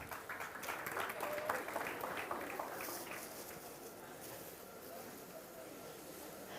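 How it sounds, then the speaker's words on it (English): A school science-show audience claps steadily for a balloon-blowing contest, a busy patter of hands with some crowd noise and faint voices mixed in, easing slightly toward the end. "Come on, give them a clap."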